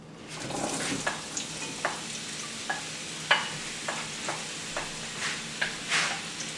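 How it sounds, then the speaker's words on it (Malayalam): Onions for chicken curry sizzle softly in a pan while a spatula scrapes and taps at a steady, unhurried pace, close by. "നമ്മൾ സവാള വാട്ടാനിട്ടു."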